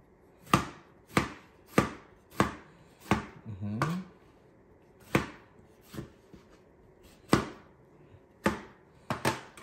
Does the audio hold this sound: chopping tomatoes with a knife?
yes